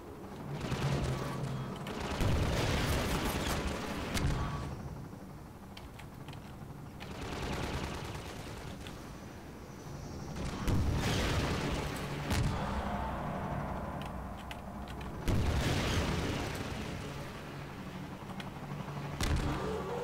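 Rocket explosions in the Half-Life 2 video game burst out as loud, booming blasts at several points, with crackling gunfire-like noise and rumbling debris filling the spaces between them.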